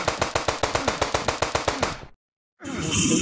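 Rapid automatic gunfire in the mobile game Indian Bike Driving 3D, used to shoot a ghost: about fourteen evenly spaced, loud shots over two seconds, then an abrupt silence before a steady wash of game noise.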